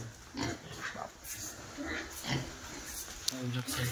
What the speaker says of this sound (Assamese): গাহৰি